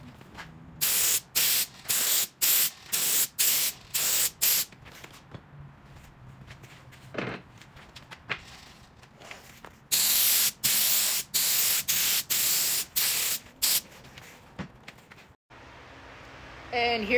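An HVLP sprayer lays lacquer finish onto a wooden picture frame in a series of short, sharp hissing bursts separated by brief pauses, close and fairly quiet.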